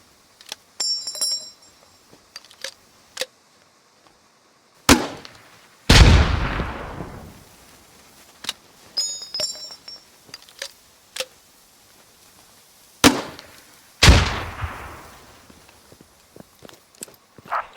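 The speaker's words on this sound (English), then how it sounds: "These fire 40mm grenades and are highly effective against infantry in the open and light vehicles" A 40mm underslung grenade launcher in the shooter game Squad fires two heavy thumps, each followed by a booming explosion, amid clicks and handling noises with quiet gaps between.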